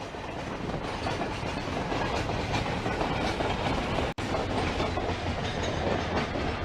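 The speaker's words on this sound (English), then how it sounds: "A freight train going up the hill" A freight train climbing a hill on a lovely day makes a loud, steady rumble and rhythmic clatter of rolling wagons throughout, with one brief dropout near the end.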